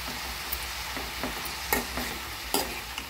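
A spoon scraping and stirring spices into amaranth-leaf pulusu in a pan, with a steady low sizzle underneath and a few sharp clinks against the metal, no voices.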